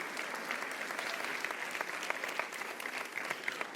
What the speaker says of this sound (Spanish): Denle un aplauso más fuerte al Señor en esta mañana